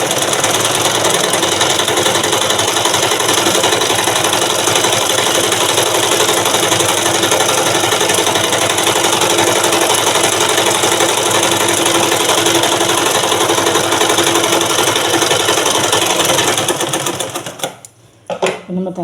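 A sewing machine runs continuously and loudly as it stitches a blouse, a steady rapid mechanical chatter that stops abruptly near the end.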